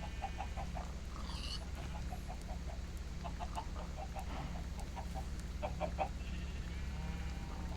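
Short clucking bursts from a Minecraft chicken repeat in irregular clusters over a steady low game ambience, fairly faint and with no talking.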